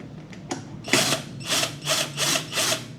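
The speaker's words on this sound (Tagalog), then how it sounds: "Dali lang naman tanggalin tong crash guard. Dalawang screw lang kada crash guard." Power tool or ratchet unscrewing the crash guard bolts on a Yamaha NMAX V3 scooter, several short whirring bursts in a steady rhythm, close and moderately loud with no talk.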